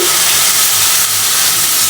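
A steady, loud hiss of water for curry gravy hitting a hot pan, continuous and close, with no talking.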